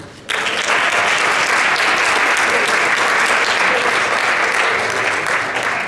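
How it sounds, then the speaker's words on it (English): A community panel audience in Birmingham, Alabama bursts into loud, sustained applause after a brief quiet moment, with dense clapping that holds steady to the end. "Y'all give a big round of applause to Mr. Jude Washington."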